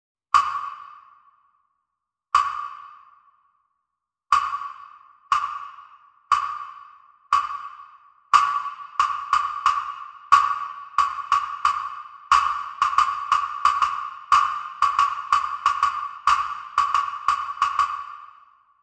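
Synthesized clicks that start as a slow, steady pulse at the fundamental. More click streams in harmonic ratios are added until the pattern becomes a dense layered rhythm, loud and close with no talk.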